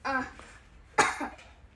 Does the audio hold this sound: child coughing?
yes